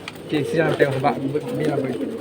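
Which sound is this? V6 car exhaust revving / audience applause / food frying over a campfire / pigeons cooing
pigeons cooing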